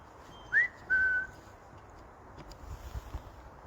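Two short whistled notes, the first rising quickly and the second held a little longer, faint against a quiet, breezy outdoor background.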